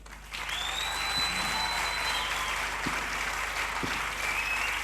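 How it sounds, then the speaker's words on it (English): An audience at a 1995 amateur stage production of Barnum applauds the cast, a steady, fairly distant wash of clapping that swells in after a quiet start and continues evenly, with a few whistles above it. "So put your hands together for the cast."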